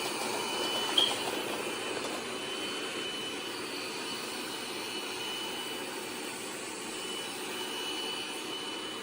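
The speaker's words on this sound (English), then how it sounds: "it's automatically activating the mop and it's vacuuming while it's mopping at the same time" Bcdroid A10 Ultra robot vacuum running a zone clean, vacuuming and mopping at once: a steady, even whir with a high motor whine holds throughout, close and constant with no talk.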